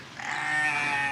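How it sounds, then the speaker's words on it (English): Lambs on a farm let out a loud, drawn-out bleat nearby, wavering and sustained across the whole moment with no talk. "Oh, are those lambs loud?"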